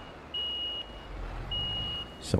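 Reversing beeps from a vehicle in Farming Simulator 22, two long steady electronic tones in a row over a low engine rumble, with no talking.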